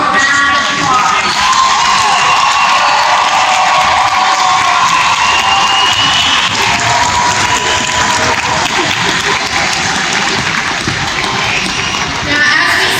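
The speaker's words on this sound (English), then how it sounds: "Let's give them all one more round of applause." A graduation audience breaks into sustained, loud applause and cheering, a dense, steady roar of clapping with whoops and children's voices mixed in throughout.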